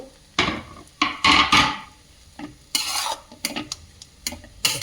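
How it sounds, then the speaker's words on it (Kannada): Coriander leaves being mixed into flattened rice (avalakki), loud close bursts of dry scraping and rustling in uneven strokes separated by short pauses. "ಅದನ್ನು ಹಾಕಿ ಮಿಕ್ಸ್ ಮಾಡಬೇಕು ಅವಲಕ್ಕಿಗೆ"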